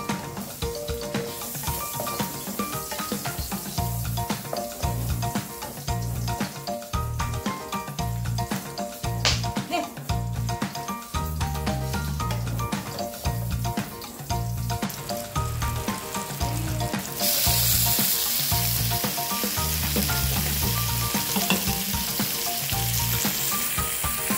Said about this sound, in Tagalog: Yung matataba na pork, kunan ko na yung mantika.